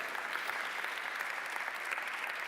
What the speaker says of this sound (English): Big applause for Peter Barry